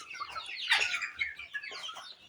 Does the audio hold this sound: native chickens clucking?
yes